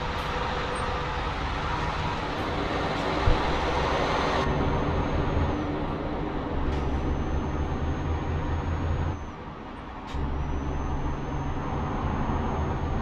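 A train crossing a dual-lane highway in the game Euro Truck Simulator 2, heard as a loud, steady rumbling engine drone with a few brief hissing bursts and a short dip near the end, no talking.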